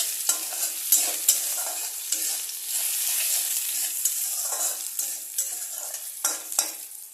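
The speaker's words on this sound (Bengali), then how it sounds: "পেঁয়াজটা অল্প ভাজা হয়ে গেছে, আলুর সাথে একটু নরমও হয়েছে।" Sliced onions with potatoes and a little salt fry in a pan for a Bengali katla fish jhal, a steady soft sizzle broken by repeated scraping stirs of a spatula, with no talk.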